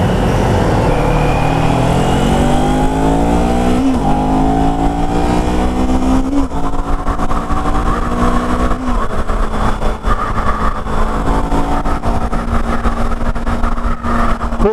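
A Kawasaki Z400 motorcycle engine drones loudly and close while riding at around 70 mph, with rising pitch through gear changes and steady wind-blasted roar throughout.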